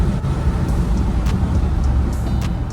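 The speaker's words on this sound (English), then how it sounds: "Dave literally gave me the keys to his car and said, take his Bentley for a drive." Steady low cabin rumble and road noise from a blacked-out Bentley being driven, constant and even throughout with no voices.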